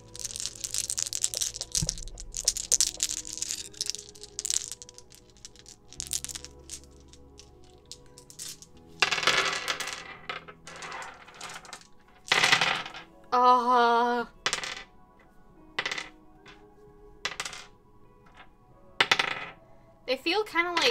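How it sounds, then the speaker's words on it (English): Dice tumble and clatter across a surface in several separate bursts of hard clicking and rattling, close up and fairly quiet, with short pauses between rolls. "Some dice ASMR."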